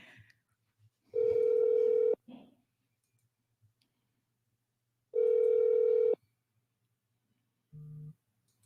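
Outgoing telephone call ringing tone from an office phone system reached by dial-by-name: two long, steady ring bursts about four seconds apart, clear and alone on a quiet line, followed by a brief lower tone.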